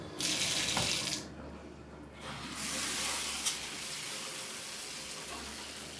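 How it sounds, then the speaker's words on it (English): Water pours steadily from a newly installed Moen Magnetix shower head with hose, a continuous close spray that shifts slightly in tone partway through and runs alone without talk. "We're gonna test it out to make sure nothing is leaking."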